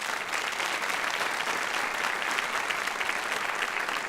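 A large crowd at a university doctoral hooding ceremony applauds the doctoral candidates, a dense, steady wash of clapping that holds evenly throughout.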